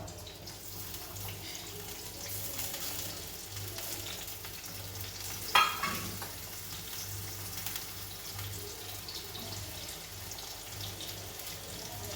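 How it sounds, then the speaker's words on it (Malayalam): Garlic and shallots sizzle in hot coconut oil, a steady close frying hiss with a brief sharper crackle midway as ingredients hit the pan. "വെളിച്ചെണ്ണ ചൂടായിട്ടുണ്ട് നമുക്കിതിലിടാം"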